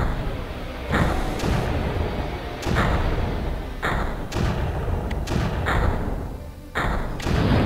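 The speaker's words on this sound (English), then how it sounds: "See how effective just 1 or 2 mortar rounds can be?" Mortar rounds firing in the strategy game Creeper World, a series of heavy thumps spaced about a second or two apart, each with a broad burst of noise, loud and close over a steady game background.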